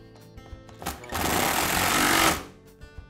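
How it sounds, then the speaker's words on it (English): A power tool, likely a screwdriver or drill, whirs steadily for about a second and a half while a handle grip is screwed onto a Makita cut-off saw during carburetor repair, with faint clicks before and after. "And then I secure it with a screw."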